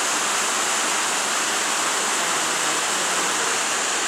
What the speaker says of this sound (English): I'm right here at the waterfall of Steele Creek Park.